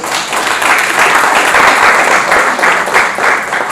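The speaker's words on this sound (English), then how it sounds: "let's give ourselves a round of applause." Steady audience applause at a meeting fills the space, dense and continuous with small swells, no voices cutting through.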